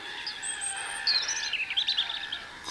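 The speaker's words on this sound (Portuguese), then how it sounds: "um bando de corvos esvoaçava entre os ramos" A flock of crows flutters among tree branches as a storybook sound effect, heard as faint, scattered high calls and chirps over a soft, steady hiss.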